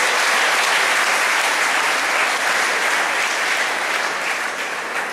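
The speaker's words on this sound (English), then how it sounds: "In welcoming Swamiji with a huge round of applause" A large audience gives a loud, dense round of applause welcoming Swamiji at an event, steady and unbroken from start to finish.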